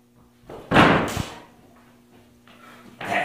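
A door slams with one loud, close thud and rattle that quickly fades, followed by quieter shuffling and a second softer bump, in a comedic film scene.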